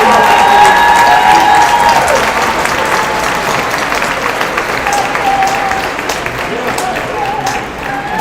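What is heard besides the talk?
graduation ceremony audience applause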